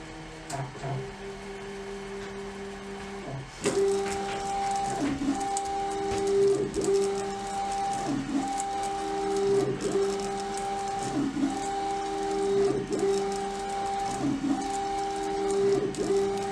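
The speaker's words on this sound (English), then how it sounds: "you can see it starting to print on the canvas" A LogoJET UVx60XL UV printer prints on canvas with a steady mechanical whir, its print head sweeping back and forth in a regular rhythm, with a faint tonal whine throughout.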